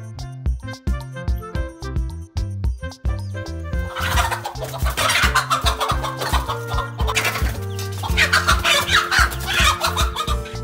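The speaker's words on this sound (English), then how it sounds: "Rooster." A rooster clucks in short, rhythmic bursts, then crows loudly and repeatedly over a busy, bouncy backing track, close and prominent throughout.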